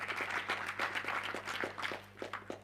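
A general assembly audience claps in a thinning, uneven patter, with individual hand claps standing out at a modest level.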